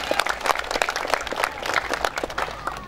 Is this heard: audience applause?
yes